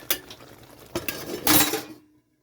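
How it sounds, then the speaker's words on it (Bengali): A metal lid is lifted off a pot of potato curry, giving a few clanking knocks and then a brighter scraping clatter of metal on the rim, close and moderately loud. "চাপাটা নামিয়ে নিচ্ছি।"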